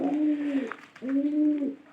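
Pigeons coo in two drawn-out, low throaty calls, each about three-quarters of a second long with a short gap between them, close by and clear with no talking.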